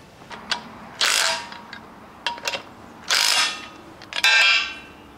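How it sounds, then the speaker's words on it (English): A torque wrench tightens the power steering pump pulley on a station wagon, giving several short bursts of ratcheting clicks separated by brief pauses, close and fairly loud. "Torqued. That was the torque spec right there."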